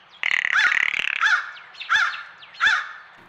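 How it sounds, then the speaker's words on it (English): A female blue jay gives a dry, rapid rattle call up close and loud. A few harsh, squeaky call notes follow with short pauses between them. "blue jays only make one type of rattle call"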